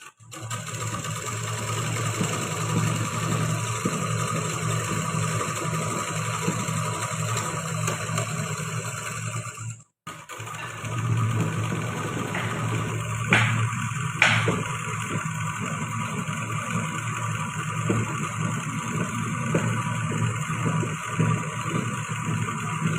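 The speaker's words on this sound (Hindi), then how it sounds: "और अब दोनों तरफ एक एक पैर की दूरी पे सिलाई लगानी है।" A sewing machine runs steadily while stitching a salwar, one straight line placed a foot's width in from each side, with a continuous mechanical whir that pauses briefly midway before resuming at a constant pace.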